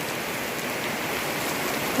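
Steady morning rain pours down in a dense, even hiss, close and continuous, with no pauses or other sounds standing out.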